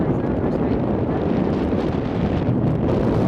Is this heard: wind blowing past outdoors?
yes